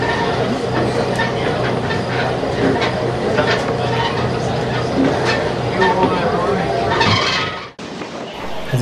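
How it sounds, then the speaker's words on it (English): A train at the Monticello Railway Museum rumbles and clatters loudly along the rails with rhythmic clicks and squeals, ending in a brief drop and a burst of noise. "As the train returns to the museum"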